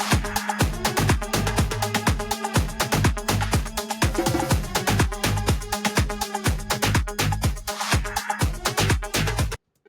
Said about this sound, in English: let me just play the original real quick so everyone can remember what the synths sound like.